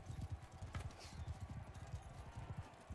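Horse hooves clip-clop in rapid, steady rhythm in the Mount and Blade 2 Bannerlord video game, a galloping patter over faint combat noise, with no voices.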